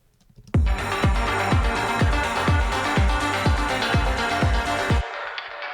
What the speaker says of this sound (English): create a varied metallic percussion section for a track